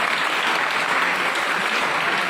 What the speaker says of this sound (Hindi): इन सब के बच्चों के लिए तालियां बजा दें.